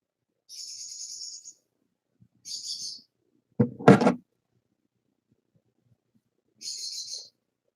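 A pet bird gives three short, shrill screeching calls spaced across several seconds, with a single dull knock or thump in between. The room is otherwise quiet and no one speaks.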